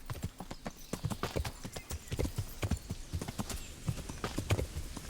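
Horse hooves clip-clop in a steady, rhythmic trot in the video game Kingdom Come: Deliverance, fairly quiet, with an occasional snort and no talking.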